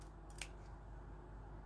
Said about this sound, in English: So you're going to take your scissors and you are going to make a little